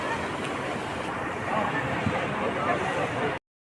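A boat moves across floodwater, a continuous wash of water and heavy wind buffeting close by, with people talking over it before it cuts off abruptly.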